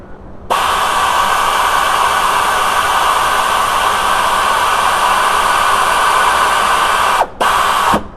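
An air ratchet whirs steadily for about seven seconds while retracting the alternator sleeve on a VW A4 with the ALH TDI engine, using a 19mm socket and bolt. The loud hiss-whine cuts briefly near the end, then runs again before stopping.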